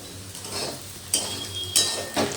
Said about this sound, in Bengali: আলু ভাজার তেল চাপিয়ে দিয়েছি আলু ভাজাটা আজকে বেশি করেই করছি